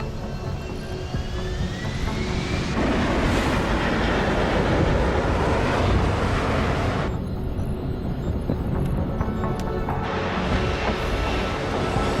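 An aircraft descending to land in Deus Ex: Human Revolution, a loud steady engine roar with a whining jet tone that holds for about twelve seconds, shifting character partway through, with no voices.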